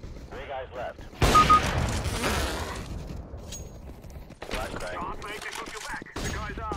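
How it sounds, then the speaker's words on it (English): Pistol gunshots fired through walls in the CS:GO video game, a loud burst of several rapid shots with a dense crackling tail, followed by quieter in-game sounds and talk. "Yes, wall bang through two walls with a pistol."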